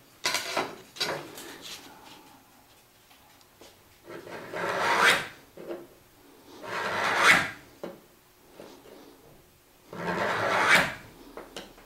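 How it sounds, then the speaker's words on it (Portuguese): Wood trim is rubbed back and forth on sandpaper in a home workshop, giving a series of distinct scraping strokes, each a rising and falling rasp with short pauses between them. "E por fim, para acertar realmente, deixar reto, eu passo dessa forma na lixa."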